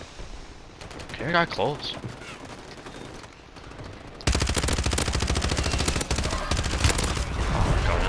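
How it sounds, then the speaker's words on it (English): Enemy gunfire in a shooter video game, sparse shots at first under excited talk, then a dense, loud sustained burst of rapid automatic fire. "Oh, he's shooting us."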